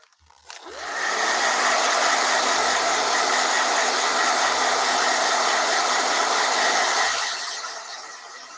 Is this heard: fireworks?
no